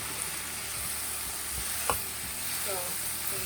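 Stir-fry noodles sizzle in a hot pan as oyster sauce goes in, a steady soft hiss and crackle with light stirring and a brief scrape near the middle.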